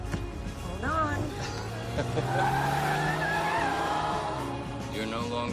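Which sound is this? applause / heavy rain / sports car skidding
sports car skidding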